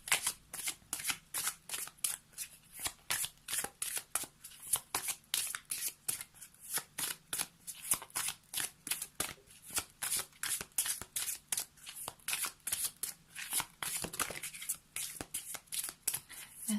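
Angel oracle cards are shuffled by hand, crisp repeated riffling bursts in a fast regular rhythm, close and clear, with no talk over them.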